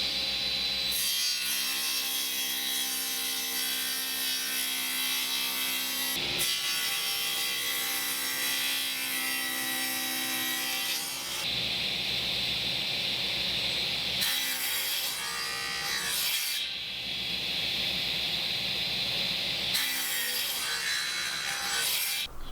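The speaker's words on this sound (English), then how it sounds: "So now I'm using my table saw and my table saw sled to cut these." A table saw with a crosscut sled cuts wood for knock-down display shelves, a loud continuous whine close by with several passes through the boards and short changes in pitch as each cut finishes.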